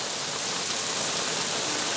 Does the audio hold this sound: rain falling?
yes